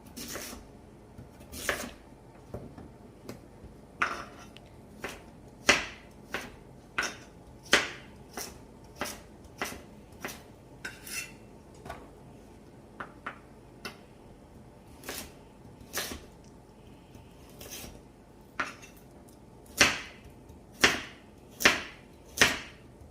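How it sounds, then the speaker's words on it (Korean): A knife chops carrots on a cutting board at home for curry, sounding as sharp, distinct close-up strikes in irregular clusters, some quick pairs and runs of three or four, fairly quiet against a faint background. "당근을 썰어 볼게요"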